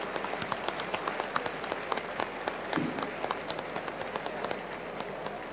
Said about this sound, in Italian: un applauso a San Giorgio, al nostro patrono come città